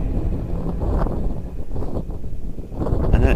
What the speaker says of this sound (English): I know it's very windy